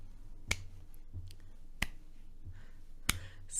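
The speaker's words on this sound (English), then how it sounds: "so let's clap a little bit" An audience at a Poor People's Campaign field hearing in Maryland claps along slowly, three sharp, widely spaced claps standing out over a low, steady background hum.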